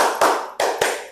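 Three sharp hand claps in a 'tepuk semangat' pattern led by a teacher in a classroom, the first and second spaced wider apart and the third following quickly, close and fairly loud, no talking.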